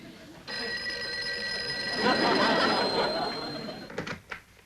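A telephone bell rings in a steady, continuous trill in a room, with a voice talking over the ringing before it stops and gives way to a few knocks.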